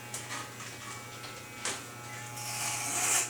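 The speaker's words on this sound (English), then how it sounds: "Right now I'm using my left hand to shave it." An electric shaver held in the left hand while a man fades his own hair, a steady close buzz with a few brief clicks and a rougher rise toward the end.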